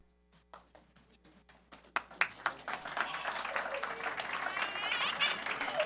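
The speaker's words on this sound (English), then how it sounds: "Let's give these kids one more round of applause." A school board meeting audience claps for a group of students. A few scattered claps grow quickly into full, steady applause that carries on to the end.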